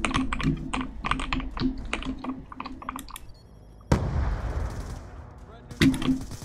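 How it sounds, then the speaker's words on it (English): Video game gunfire and a burst of grenade explosions during an online shooter match, starting with rapid clicky shots, then a loud broadband blast and rumbling aftermath, followed by another sharp burst near the end. "stop throwing grenades"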